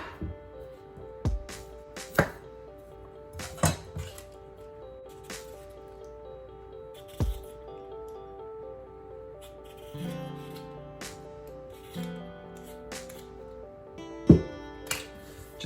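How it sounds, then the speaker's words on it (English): Beets are peeled and sliced on a cutting board, giving scattered sharp knife knocks spaced a second or more apart over a steady low hum, with a few softer scraping strokes between them. "for these beets, we're gonna wanna peel them and then slice them into like a quarter"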